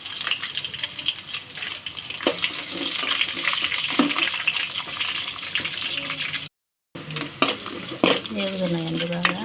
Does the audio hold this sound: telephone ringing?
no